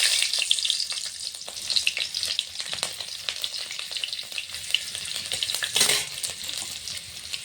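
Nigella seeds and torn chillies frying in white cooking oil in a pan, a steady close sizzle and crackle with occasional stirring scrapes, continuous and fairly quiet, with no one speaking.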